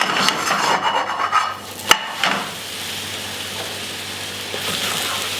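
A spatula scrapes under a blueberry farinette sizzling in a frying pan, with raspy rubbing strokes, a sharp tap as it flips, then steady soft frying.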